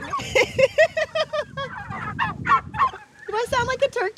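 A man imitates a turkey gobble on a farm, voicing rapid, warbling gobbling bursts in a close, lively run with short pauses between calls.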